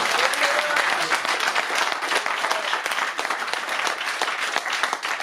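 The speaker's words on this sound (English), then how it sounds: "It deserves another big round of applause." An audience gives a big round of applause during a talk, dense, steady clapping that fills the whole stretch at an even, loud level.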